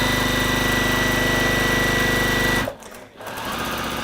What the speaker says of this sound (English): we're just going to stitch that together.